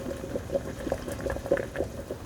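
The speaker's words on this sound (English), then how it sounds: "The hum turns to a rolling, bubbling sound as the water moves inside." Water boils in a kettle, making a low rolling rumble with soft bubbling pops at an irregular pace, steady and close, with no voices.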